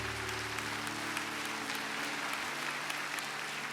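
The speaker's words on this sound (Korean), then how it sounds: "찬양 가운데 거하신 하나님께 더 큰 영광의 박수를 올려드리겠습니다" Congregation clapping during a Sunday worship service in a church, a dense, steady wash of applause with a faint sustained tone underneath, no speech.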